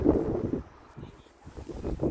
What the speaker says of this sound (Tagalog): Ayan ang hangin.